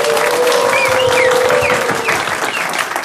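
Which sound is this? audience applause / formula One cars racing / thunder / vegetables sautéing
audience applause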